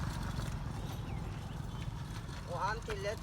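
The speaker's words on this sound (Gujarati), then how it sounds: "ઓહો ઘોડાની એન્ટ્રી છે" A horse arriving with a run of clip-clopping hooves, close by, ending in a short whinny, while people talk over it.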